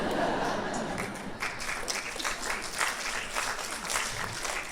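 Audience applause fills the room at a stand-up comedy show, a steady, moderately loud wash of clapping with some talking mixed in.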